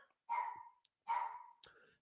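Two sharp, fairly close dog barks about a second apart, each ringing briefly, with a faint click between them in an otherwise quiet indoor room.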